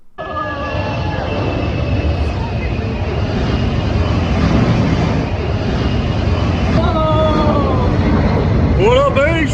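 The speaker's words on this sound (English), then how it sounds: "A giant plane flew right through the middle of a city in Australia as part of an annual air show." A giant plane flies low right through the middle of an Australian city during an annual air show, its engine roar loud and continuous throughout, with crowd noise and a voice mixed in near the end.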